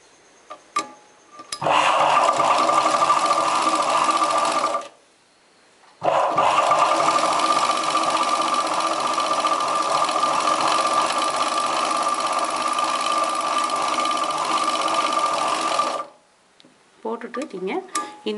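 A sewing machine stitching a folded chudidar top sleeve, running in two long continuous bursts of rapid, whirring mechanical stitching separated by a pause, with a short restart at the end.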